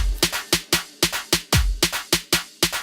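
A punchy dubstep build-up loop of repeated drum hits and snappy bursts in a fast, even rhythm, each hit decaying quickly, loud and alone.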